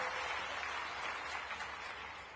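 Applause from an audience at a school building inauguration ceremony in Banda, Sagar, a steady, dense wash of clapping that holds through the whole stretch at moderate loudness with no voices over it.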